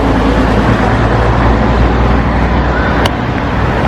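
Dense, loud road traffic rumbles steadily along a street in Pattaya, Thailand, with engines droning and a constant broadband roar, no clear voices over it.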